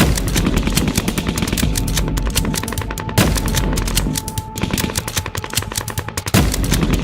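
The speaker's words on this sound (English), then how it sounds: "I like how they're using the bolts and the guns as percussion." Gunfire and rifle bolts used as percussion in a song come as loud, continuous rapid-fire bursts with a sustained tone running underneath, broken by a few sharper hits.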